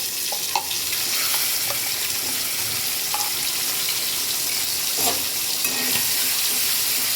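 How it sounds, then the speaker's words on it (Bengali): Masala paste and spice tempering fry steadily in a hot pan for okra, a continuous close sizzle with scattered clicks of stirring. "এবার একটু ফোড়নটা একটু সামান্য ভাজা হবে"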